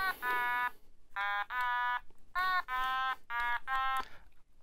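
An otamatone plays a few deliberately out-of-tune, buzzy nasal notes in short bursts with gaps between, reedy and wavering in pitch, fairly quiet and with no talk over it.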